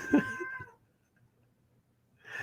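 Maxie the cat gives a single short meow when picked up, close and clear, followed by near silence before faint sound returns at the end.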